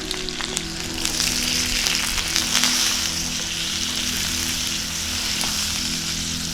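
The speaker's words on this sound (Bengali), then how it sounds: "বেগুনগুলো ভালো করে কড়াইয়ের মধ্যে মাখিয়ে নেব, যাতে তেলে ভালো করে ভাজা হতে পারে।" Brinjal pieces frying in hot mustard oil with salt and turmeric in a kadai, a steady dense sizzle running throughout, close and fairly loud with no talking.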